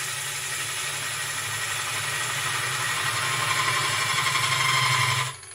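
A wood lathe gouge takes a slicing cut into spinning wood, its side wing rubbing the bevel, giving a steady close rasping hiss over a low rumbling hum, continuous and even until it tails off abruptly at the end.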